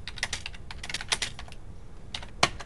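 Quick, irregular key clicks on a computer keyboard as a chart title is typed in a spreadsheet, close and fairly quiet, with one sharper keystroke near the end.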